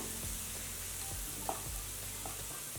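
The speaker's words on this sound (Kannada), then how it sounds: "ಹಸಿಮೆಣಸಿನ್ಕಾಯಿ ಪೇಸ್ಟು ಚೆನ್ನಾಗಿ ಫ್ರೈ ಆಗಿದೆ" Green chili paste fries in a pan over medium flame with a faint, steady sizzle and a few soft scraping stirs and taps.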